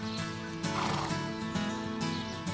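Horse neighing at a French sanctuary for animals rescued from slaughter, a sustained loud whinny with harmonic layers lasting the whole stretch, swelling in the middle, close and clear with no talk.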